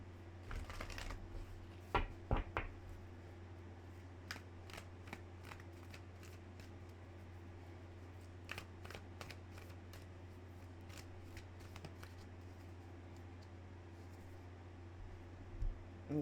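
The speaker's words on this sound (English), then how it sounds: "Let's get a good shuffle on this." Tarot cards being shuffled by hand during a reading, a soft papery riffle and scattered clicks over a steady low hum, with a few louder card snaps near the start and end.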